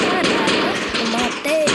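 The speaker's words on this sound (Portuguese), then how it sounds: "Eu vou atirar" Gunfire from the blocky shooter game Block Strike cracks out in a few loud, sharp bursts, with voices and game noise sounding beneath them.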